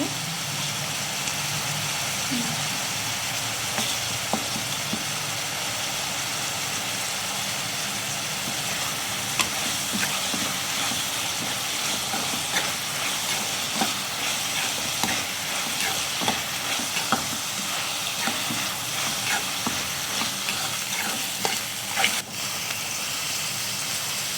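Onions sizzling and frying in a pan with ginger garlic paste added, for a bitter gourd curry. A steady, close crackling sizzle runs throughout, with occasional stirring scrapes and clicks, and no voices.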